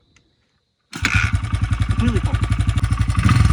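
A motorcycle with a stock exhaust and a carburetor needing jet changes starts abruptly after a moment of silence, then runs close by with a fast, pulsing, slightly uneven beat as it is revved, a voice briefly audible.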